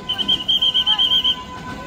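A train whistle at Wonder Park, an amusement park in Nerul, Navi Mumbai, gives about ten rapid, shrill, evenly spaced toots in just over a second, fairly loud over faint outdoor background.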